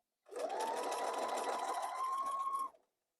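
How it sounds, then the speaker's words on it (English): A sewing machine top-stitching binding onto a flannel baby blanket, a close, steady whirring hum that starts abruptly, runs for about two seconds and then stops. "and we're going to stitch it down."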